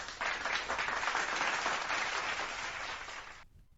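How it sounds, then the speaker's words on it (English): A canned applause sound effect from a button bursts in suddenly, dense crowd clapping held for about three seconds before cutting off abruptly. "I'm supposed to press the applause button."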